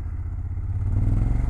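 Ducati Monster 1200 S engine at low revs, throbbing with a rough, jerky low pulse as the throttle is reopened, the loud uneven chugging growing slightly stronger toward the end.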